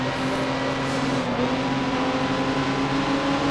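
1950s Grand Prix racing car engines in the Grand Prix Legends game, a loud steady droning roar held at constant pitch throughout, close and uninterrupted, without talk.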